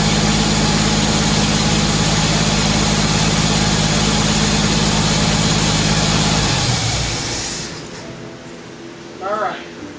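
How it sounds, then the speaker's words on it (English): An engine idles loudly and roughly at close range, then drops away and dies down after about seven seconds. A short sharp burst follows near the end. "it's backfiring, so that means what? It's through the ignition, that means, or through the intake."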